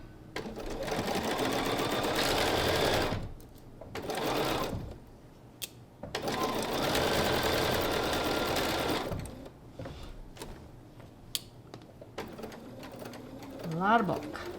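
A sewing machine stitches through a thick, bulky quilt block in bursts of steady whirring, pausing between runs, with brief soft voice and handling noises in the gaps.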